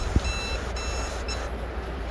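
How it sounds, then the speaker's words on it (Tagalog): An Aqara multi-mode gateway sounds a water leak alarm, giving a faint high-pitched electronic beep tone early on over a low background hum. "sounds off the alarm via the multi-mode gateway"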